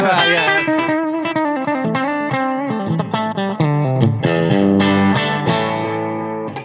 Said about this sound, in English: I would like a distortion pedal now.